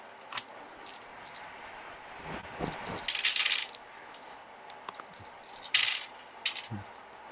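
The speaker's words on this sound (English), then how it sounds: "I hear lots of dice." Several dice tumble and clatter across a tabletop during a tabletop wargame playtest, a few scattered rattling bursts with short gaps between them, fairly close and moderately quiet, with no talking over them.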